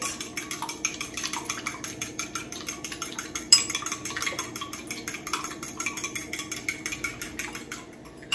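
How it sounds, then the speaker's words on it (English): Eggs and a splash of milk whisked briskly in a bowl in a home kitchen for a veggie scramble, a fast steady rhythmic clatter of whisk against bowl running throughout, close and clear with no talk. "And then I'm going to just whip it up like that."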